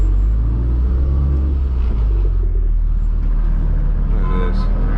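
Straight-piped BMW M4 G82 cruising on a road at night, a steady loud low engine and exhaust rumble with constant road noise throughout, no talking.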